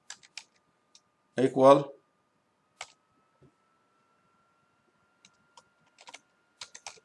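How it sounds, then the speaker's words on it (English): Code typed on a computer keyboard: scattered light key clicks in short bursts and single taps, close and quiet, with a brief spoken word in the middle and long near-silent gaps. "So here I can type script and then type"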